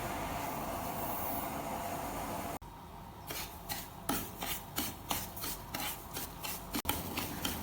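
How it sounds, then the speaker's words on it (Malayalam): A spoon scrapes and stirs semolina roasting in ghee in a pan, a dull continuous rasp giving way to a rhythmic series of scraping strokes, close and fairly quiet with no speech. "വേറൊരു പാനിൽ നെയ്യ് ഒഴിച്ച് 1/2 കപ്പ് റവയിട്ട് ഇളക്കി റോസ്റ്റ് ചെയ്തെടുക്കാം"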